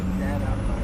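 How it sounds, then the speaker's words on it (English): Squealing brakes on a road vehicle during a tornado chase, a sustained tonal whine over rumbling traffic noise, with voices mixed in. "those brakes are singing"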